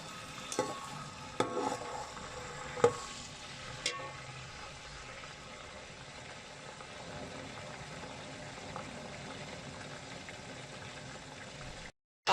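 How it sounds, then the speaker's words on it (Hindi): Onions fry in hot ghee in a pan, a soft, steady sizzle and crackle with a few sharp clicks and stirring knocks early on, close and fairly quiet. "तो घी गर्म हो गया, इसके अंदर हमने प्याज डाल दिए हैं।"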